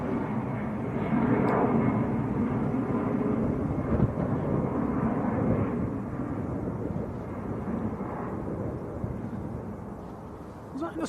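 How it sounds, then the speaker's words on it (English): An easyJet airliner departing Manchester Airport for Zurich on a windy day gives a broad, rumbling jet roar heard from a distance, swelling early and then slowly fading, with wind buffeting the microphone. "It's EasyJet to Zurich"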